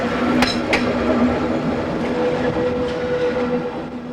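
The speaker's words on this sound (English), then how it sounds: "The railway carriages are pulled by steam and diesel locomotives at a speed of 20 kilometers an" The Rhine Express, a tourist train hauled by steam and diesel locomotives, rolls along at low speed, a steady loud rumble of carriages with a couple of sharp metallic clanks early on and a faint whining tone.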